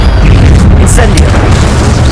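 Fiery Incendio spell blast cast in the wizarding game Hogwarts Legacy: a loud, dense boom with crackling bursts sustained across the moment, game music and noise layered underneath.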